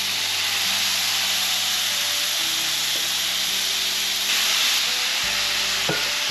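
Thin slices of steak cook on a Blackstone griddle, giving a loud, unbroken hiss of sizzling with a low steady hum underneath and a faint knock near the end.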